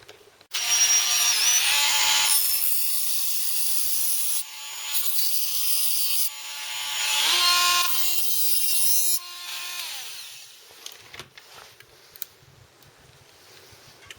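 A Dremel rotary tool whines loudly while cutting into a Ryobi lithium battery pack cell, the high grinding pitch dipping and recovering under load in several bursts before stopping, followed by light clicks and handling.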